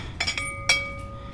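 White milk glass dishes with a grape pattern clink together as they are handled on a thrift store shelf, a few sharp ringing taps close by with lingering tones, no talking.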